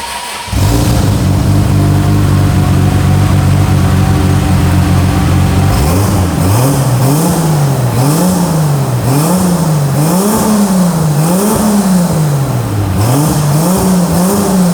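A rebuilt Cadillac engine idles loudly and steadily, then revs repeatedly in a wavering rhythm of rising and falling pulls, close and alone without voices.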